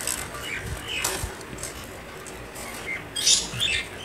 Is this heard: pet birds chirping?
yes